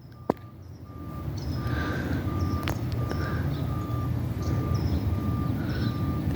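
A garbage truck reverses on a morning street, its backup alarm sounding a steady train of evenly spaced beeps over loud engine rumble and road noise, with faint chirps in the background.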